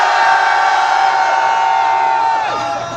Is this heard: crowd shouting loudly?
yes